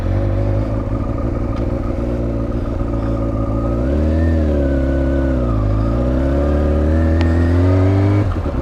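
A 2003 Yamaha R6 motorcycle engine runs steadily on a ride, its loud mid-pitched drone holding close throughout with gentle pitch swells as the revs rise and fall.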